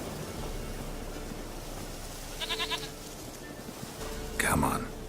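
A goat bleats in The Witcher 3: a short, wavering, nasal bleat rises near the end over a steady game ambience, after a brief fainter chatter of bleats earlier.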